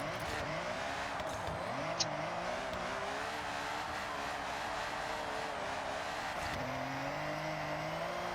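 A high-horsepower drift car on drift tires in Forza Horizon roars continuously as its engine pitch rises and falls, with tire squeal through the slide and a sharp shift near the end.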